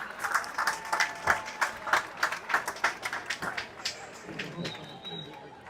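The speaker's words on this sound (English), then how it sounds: "Let's give the 2025 Homecoming Court a final round of applause" Crowd applause for the homecoming court during halftime at a high school football game, a steady patter of clapping from the stands, moderately distant, with birds cooing nearby and chatter mixed in.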